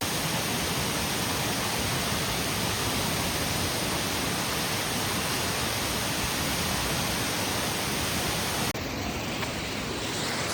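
A steady, loud broadband rush of falling water from a waterfall at a campsite, continuous and unbroken for the whole stretch, with no voices over it.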